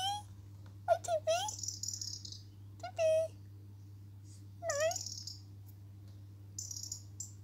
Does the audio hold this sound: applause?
no